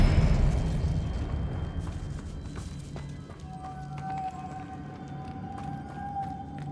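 Magic spell blasts and fiery explosions in the Hogwarts Legacy video game, a loud rumbling low-end roar fading out, with a sustained whistling tone rising over the tail.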